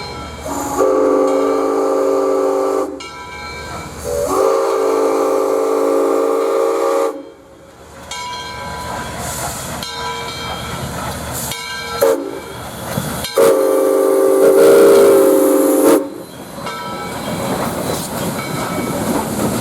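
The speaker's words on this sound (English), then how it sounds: "the two engines run around the train and prepare for the next trip" Two steam locomotives, 4501 and 630, chuff and rumble nearby as they run around a train, with repeated loud whistle blasts between stretches of working noise, no voices.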